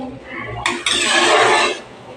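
Boiled rajma stock poured from a vessel into a cooking pot for rajma dal, a close splashing gush after a short metallic clank, then a steady liquid rush that tapers off quickly.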